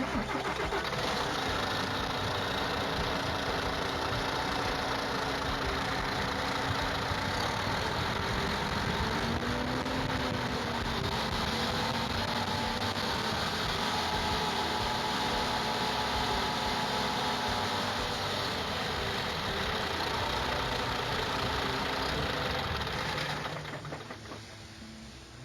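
A steady VW MAN TGX truck diesel engine idling close by, a low continuous rumble with a faint whine, running unbroken before cutting off near the end.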